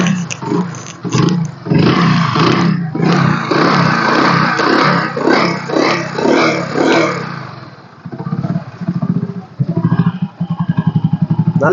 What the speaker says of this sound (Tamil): Hero fashion bro self start engine எல்லாம் பக்கா கண்டிஷனில் இருக்குதுங்க.